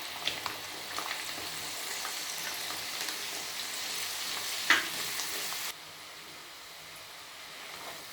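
Garlic and ginger fry in hot oil for a pickle, giving a steady broad sizzle with a few stirring scrapes; the sizzle drops suddenly to a quieter hiss partway through.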